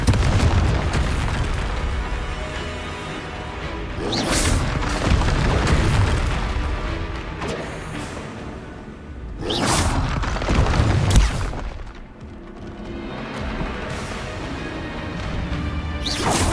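Confringo blasting spells explode in Hogwarts Legacy, several loud booming bursts with whooshing crashes arriving at irregular intervals over a continuous rumbling battle background.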